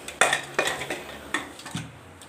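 Metal lid set onto a pot of saag, a series of four or five sharp clanks and rattles close by, each decaying quickly, with no speech.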